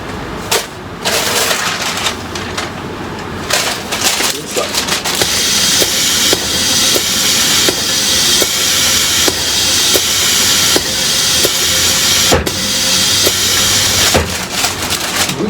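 Steady loud hiss and rumble of a hot melt press machine bonding the inner neck of a handmade wetsuit in a Japanese workshop, with regular faint clicks throughout and no talk.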